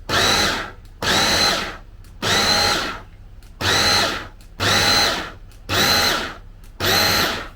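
A food processor whizzing in short pulses, seven loud bursts of about a second each separated by brief pauses, harsh and close with a steady motor whine in each burst.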